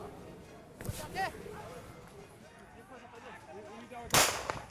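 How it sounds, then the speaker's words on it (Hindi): Police firing into the air at protesters: two sharp, loud bangs a few seconds apart, one early and one near the end, heard under continuous talking. "पुलिस ने हवाई फायरिंग की"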